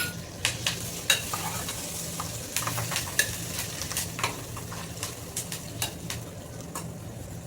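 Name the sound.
curry leaves sizzling as they fry in hot oil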